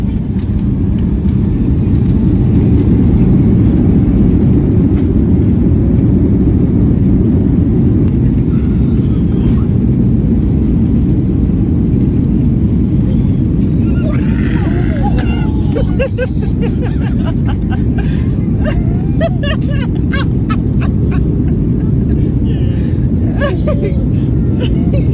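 An airliner preparing to land produces a constant, loud cabin roar of engine and airflow noise that fills the whole stretch, with a few faint clicks and murmurs near the end.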